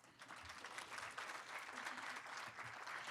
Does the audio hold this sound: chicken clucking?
no